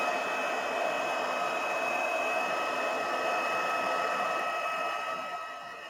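A hair dryer blows steadily on freshly painted watercolour lollipops, a loud, even whoosh with a constant whine that runs close to the microphone for the whole stretch and eases off slightly at the end.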